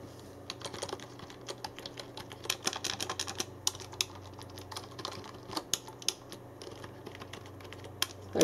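Fast typing on a standard SteelSeries Apex mechanical keyboard, crisp clacky keystrokes in quick uneven runs, fairly loud and close, with no voices.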